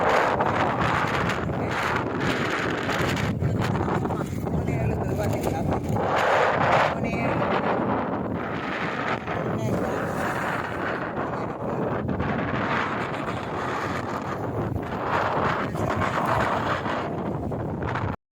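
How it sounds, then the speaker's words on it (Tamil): Strong wind gusts roar continuously across the microphone on a sea shore where fish are being unloaded from boats, loud and steady throughout, with a voice speaking faintly beneath. "சரியான காற்றா இருக்குது"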